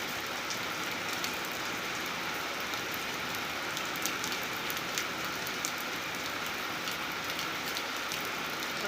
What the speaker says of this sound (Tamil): மழை பெய்கிற சத்தம் கேட்குதுங்களா? சூப்பராக மழை பெய்யுது.